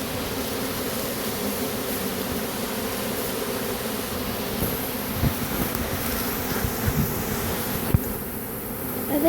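Honeybees buzz steadily around a hive entrance, a dense continuous hum of many flying insects close by, holding the same level throughout with a slight rise near the end.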